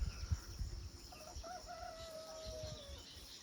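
A rooster crows once, a drawn-out call rising and sliding down, at moderate distance over a rural village on a misty, rainy monsoon day, with low rustling ambience and no talking.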